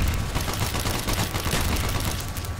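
Rapid automatic turret fire in the Call of Duty zombies map Kino Der Toten, a dense unbroken burst of loud, close shots rattling throughout the short stretch.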